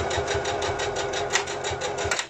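A sewing machine stitches back and forth on a fabric mask pouch during a backstitch, giving a steady, fast mechanical whir with an even rhythmic pulse throughout, close and alone.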